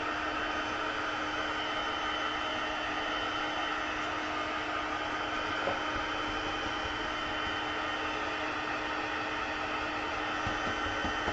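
A hair dryer blows steadily close by, drying a stamped layer of plastic-like metal on a handmade card, a constant whooshing roar with no talk.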